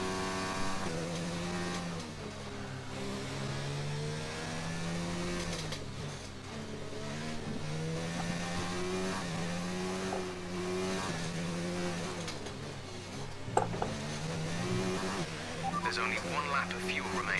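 An F1 race car engine in the video game F1 2019 drones steadily as the car drives into the pit lane, a sustained tonal whine with shifting pitch under almost constant talk.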